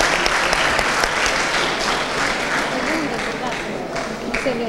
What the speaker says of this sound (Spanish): Un fuerte aplauso por estar.